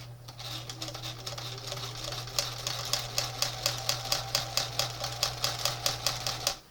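A sewing machine fitted with a zipper foot stitches chenille sofa fabric, starting with a low motor hum and then settling into a fast, even run of sharp needle clacks.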